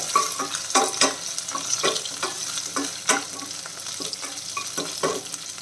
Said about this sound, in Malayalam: നമ്മുടെ ചെറിയ ഉള്ളി നല്ല രീതിയിൽ വഴണ്ടിട്ടുണ്ട്